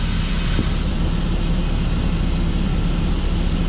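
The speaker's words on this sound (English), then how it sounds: "What I'm doing here is deflating the rear airbags." Rear airbags on a spread-axle semi trailer deflating: a loud, steady rush of escaping air that hisses continuously and close by for the whole stretch, without any speech.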